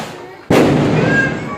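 A Dev Diwali firecracker bursts with a sudden loud bang after a quiet moment, followed by a sustained crackling, fizzing rush that carries on close by.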